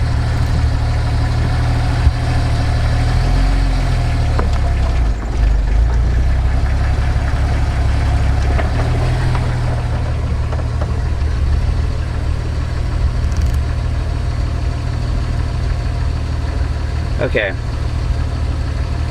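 A vehicle engine runs with an Atlas four-speed transfer case set in four-wheel drive 1:1, giving a steady, close, low idle rumble throughout while someone speaks briefly over it.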